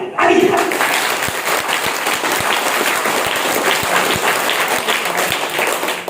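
A large audience at a motivational class and tenth-anniversary event bursts into sustained, dense applause, loud and steady throughout with no break.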